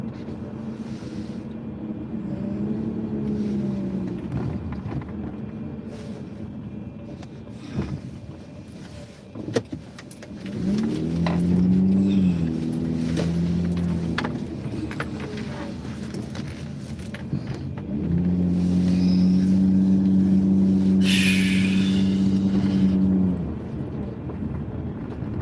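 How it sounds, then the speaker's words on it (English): A car driving on a road, its engine hum rising and falling in long swells with a steady road rumble, close and continuous for most of the stretch, with faint background noises and no clear talk. "I'm following this car right in front of me."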